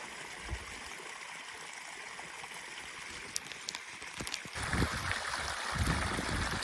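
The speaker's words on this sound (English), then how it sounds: "waterfall campsite" Rushing water at a waterfall campsite on the Southern Ranges circuit in South West Tasmania, a steady broadband wash that swells louder partway through, with no voices.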